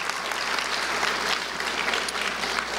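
Sustained applause fills a rally hall in Jackson, Mississippi, as a crowd honors the school superintendent, a steady dense wash of clapping at moderate loudness from start to end.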